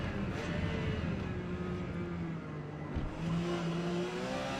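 A Porsche 956 race car in Forza Motorsport, P class at Grand Oak Raceway, holds a steady, loud engine drone throughout with slight pitch shifts and a brief dip near the end.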